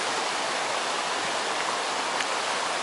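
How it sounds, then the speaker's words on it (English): A waterfall beside the hiking path climbing toward a mountain lake, a steady broadband rush of falling water that holds unbroken and fairly close with no voices over it. "I'm on the right side, and there's a nice waterfall there."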